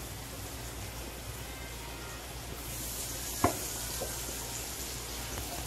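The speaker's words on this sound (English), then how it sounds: "Add the butter. Make sure the butter is really melted." Butter melting in a pan while cooking honey garlic shrimp, giving a steady soft sizzle and hiss throughout that swells slightly partway, with one sharp clink near the end and no talking.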